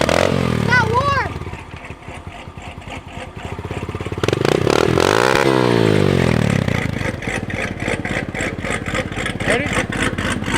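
A nearby cold engine of a cammed Cadillac CTS-V idles roughly, then revs up in a rising surge before settling back to a loud, pulsing idle.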